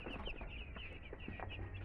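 Baby chicks in a cardboard-lined nursery peep continuously, a dense, rapid chorus of soft high chirps over a steady low hum, with no talking.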